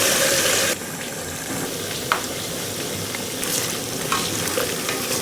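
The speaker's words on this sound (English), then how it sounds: "So at this point, our oil is hot, and so let's put in our gizzard. We are going to fry this gizzard for about 5 minutes." Gizzards frying in hot oil give a steady, close sizzle. It grows louder after the first moment, and a few light clicks and stirring sounds come through.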